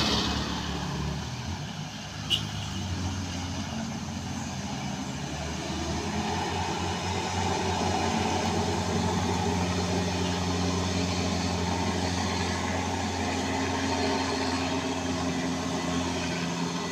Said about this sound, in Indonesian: Dengan muatan yang cukup tinggi, sudah langsung digas saja.